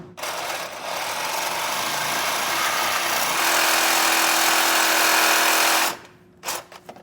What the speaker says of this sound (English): I'm using a Sawzall. You can use anything you have that will cut metal.